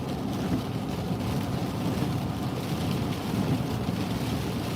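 Steady rain falls during a thunderstorm in Massachusetts, heard as a continuous dense hiss and low rumble with no voices, evenly loud throughout.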